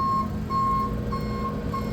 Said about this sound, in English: when it's done beeping, you heard the beep there